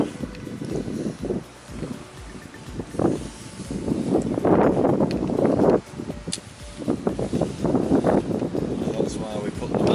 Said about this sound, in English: It's quite difficult to see these bites in all this wind